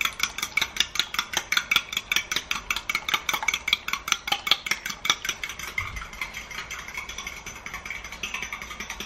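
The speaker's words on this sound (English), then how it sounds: "Make sure you mix them properly." Eggs beaten briskly in a bowl, a fast regular clatter of utensil strikes against the sides, loud and close, gradually softening toward the end, with no talk.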